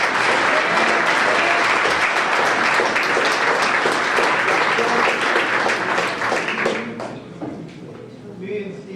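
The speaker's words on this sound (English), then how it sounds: "So let's give Jackson a round of applause." A banquet audience claps for an honoree, loud and sustained, with a murmur of voices underneath, before the clapping thins and fades near the end.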